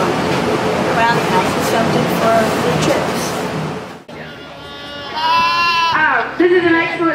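Goats bleating in a livestock show barn at the 2013 Cass County Fair, several loud, wavering calls in the second half, following a stretch of people talking over steady ambient noise.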